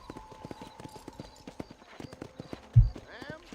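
Horse hooves clip-clopping in the Red Dead Redemption video game, a steady rhythmic series of hoofbeats close by, with a horse whinny and a sharp thump near the end and a voice speaking over it.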